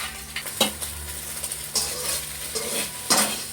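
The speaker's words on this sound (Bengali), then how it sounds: "এবার ডিম ভেজে নেব।" Salted eggs frying in a pan sizzle softly beneath several sharp scraping, stirring strokes of a utensil against the pan, coming in uneven bursts.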